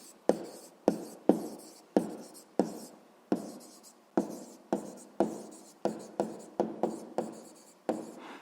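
Pen strokes scratching across paper while solving a sixth-grade maths exercise, a steady run of short, crisp scribbles with brief pauses between words, close and clear with no talking.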